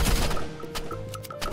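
Gunfire from a shooter match in the video game Rivals: a dense, steady barrage of rapid shots held at moderate loudness, with short repeated sharp tones popping out at intervals across the burst.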